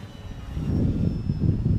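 An FT Mustang RC model airplane in flight on its maiden outing, its electric motor giving a steady buzzing drone that swells slightly louder toward the end of the short stretch, with no talking.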